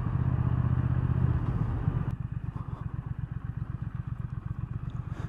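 A 2019 Triumph Thruxton R 1200 motorcycle runs while being ridden, a steady close engine drone that shifts after about two seconds into a rapid, pulsing throb.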